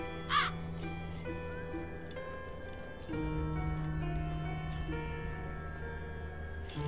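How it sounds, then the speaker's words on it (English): A raven caws in the Black Mirror II video game, a few harsh calls set against a quiet ambient game soundscape with tonal drones and faint ticking. "I bet the raven stole the piece of mosaic from Angelina's backpack"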